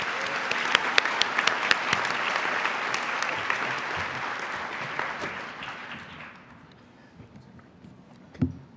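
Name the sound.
audience round of applause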